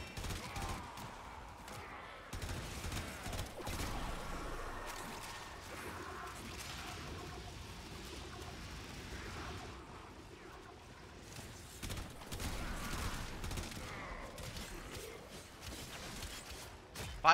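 Gunfire from a shotgun-type weapon in a shooter video game, dense repeated blasts and crashes with whooshes running almost continuously under game music and effects.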